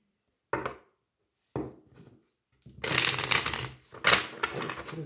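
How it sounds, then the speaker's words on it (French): Tarot cards shuffled by hand in a few short riffling bursts, then a longer, louder stretch of rustling and flicking, close up and with no talking. "Le tarot, on va le remélanger."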